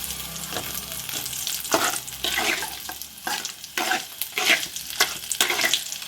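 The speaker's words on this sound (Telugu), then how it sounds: "ఇప్పుడు మనం వెల్లుల్లి వేసేద్దాం" Garlic sizzling and frying in hot oil for a Guntur-style red chilli pickle, with a steady crackle broken by several sharper bursts of spatter and stirring, close and fairly loud, with no one talking.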